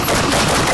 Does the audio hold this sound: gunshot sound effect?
yes